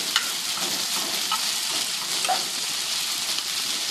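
Mushrooms and vegetables sizzle steadily in sesame oil, a continuous close crackle of frying with occasional stirring clicks and no voices.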